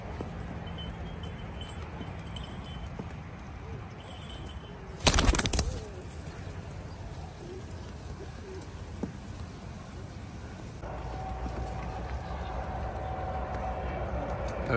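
Fancy pigeons in a loft flap their wings in one brief loud burst midway, against a steady low background of faint rustling and soft coos.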